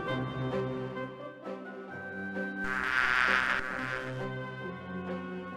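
Bees buzzing around hives in the Discworld 2 video game, a continuous insect drone with wavering pitch that swells louder in the middle before easing off.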